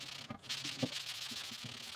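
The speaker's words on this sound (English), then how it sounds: "Just take a sanding block, very lightly sand this handle" A sanding block lightly rubbing an old wooden tool handle, a faint, close, rhythmic series of soft scratchy strokes, with no talk.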